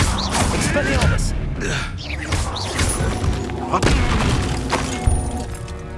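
Spellcasting in the Hogwarts Legacy video game, an Expelliarmus duel: whooshing magical bursts, shattering impacts and thuds layered with game music, with voices speaking over the effects.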